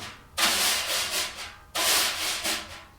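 Wire drum brushes sweep across a snare drum in smooth, continuous strokes, two long swishing passes with rhythmic pulses inside each, close and clear with no talking.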